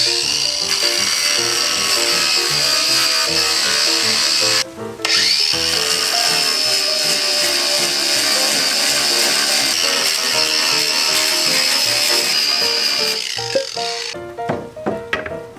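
A power tool grinds and shaves wood off a kotatsu table, a loud continuous whine with a short break partway through and a few scraping knocks near the end.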